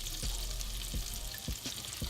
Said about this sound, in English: once your butter is boiling